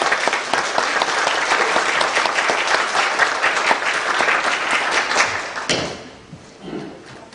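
A church congregation in a Korean service gives loud, dense applause that holds steady for several seconds and then tapers off quickly into quieter room sound.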